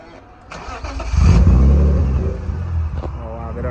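A BMW M3 engine fires up for the first time, the low rumble swelling sharply after a brief crank and settling into a loud, rough idle close by, with people talking briefly near the end.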